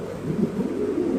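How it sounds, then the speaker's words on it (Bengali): Mundiya pigeons at a pigeon market coo softly and continuously nearby, a low, steady burbling call with no talk over it. "এত সুন্দর মুন্ডিয়ার নরগুলা"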